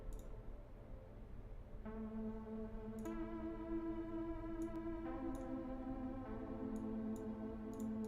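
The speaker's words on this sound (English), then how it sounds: "This one here, I'm going to add an echo boy, I think." EchoBoy echo effect on a track in a Studio One mix, sustained tonal notes entering in steps with repeating echoed ticks layered above, moderately quiet and without speech.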